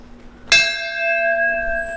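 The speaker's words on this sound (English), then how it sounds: "in old days they used to use the bells" An old railway signal bell in the Vilnius train station museum is struck once, a loud, close metallic clang that rings on with a long, steady, slowly fading tone.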